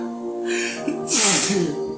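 A single loud, sharp sneeze bursts out close by after a brief hum of a voice.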